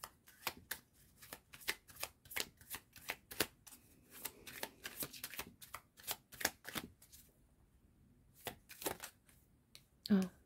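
A tarot deck being shuffled and cut by hand in a quiet room, with crisp rapid riffling bursts coming in rhythmic waves close up, pausing briefly near the end.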